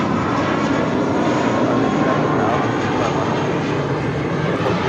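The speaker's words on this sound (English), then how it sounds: "This is Spirit Airlines 631 departing to Atlanta on an A320" Spirit Airlines Airbus A320 jet departing LAX for Atlanta, its engines giving a loud, sustained roar that stays strong and even throughout, close by and heard alone.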